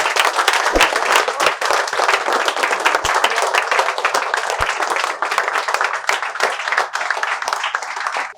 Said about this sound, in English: Please give a huge round of applause for yourself